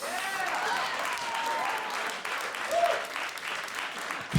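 Sustained audience applause and cheering fill a stand-up comedy show, loud and continuous before tapering slightly.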